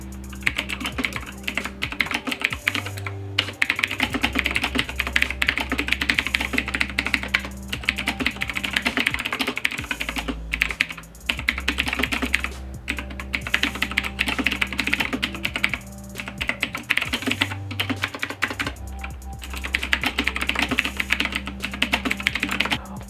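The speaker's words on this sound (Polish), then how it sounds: "te Blue Switche, one zawsze tak pięknie, naprawdę dźwięcznie, donośnie brzmią" Rapid, steady typing on a Motospeed K87S mechanical keyboard with blue switches, each keystroke a crisp, loud click, close up and continuous with no talking.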